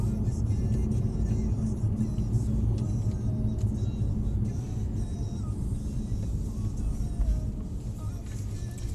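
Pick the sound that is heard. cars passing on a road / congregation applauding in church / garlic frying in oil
cars passing on a road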